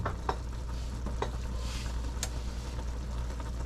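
Sausage and peppers sizzling in a pan, a close, continuous frying crackle with occasional sharp pops and light spatter, no voices.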